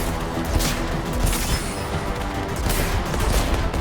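Air strike in the video game Suicide Squad Kill The Justice League, with rockets and turrets firing: a continuous roar of overlapping blasts and rapid shots, loud and unbroken throughout.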